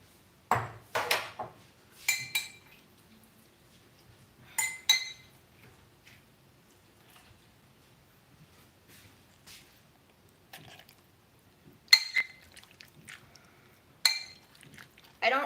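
Three peeled persimmons being mashed in a bowl: a utensil clinks and taps against the bowl in short, sharp bursts separated by quiet pauses, close and fairly faint.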